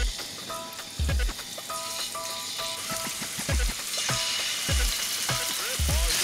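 Chicken pieces sizzling and frying in hot vegetable oil in a pan, a steady crackle broken by several low thumps and clatters of tongs or utensils against the pan.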